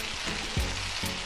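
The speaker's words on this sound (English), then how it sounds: "So I saute my seasoning for about 3 minutes" Maggi seasoning sautéing in a pan for Jamaican-style tin mackerel, a soft steady sizzle and crackle running throughout, with a couple of brief low knocks, likely a utensil against the pan.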